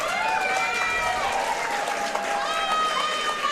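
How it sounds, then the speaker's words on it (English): Audience applause and cheering fill a Muay Thai fight event after the bout ends, a steady loud crowd roar with voices shouting over it throughout. "All right, guys, give a big round of applause."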